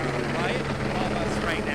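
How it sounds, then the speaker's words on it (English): A helicopter arrives over an emergency scene near a mountain, its rotor thump and turbine whine rising steadily beneath a reporter's continuous speech. "You can see that helicopter arriving on the scene there."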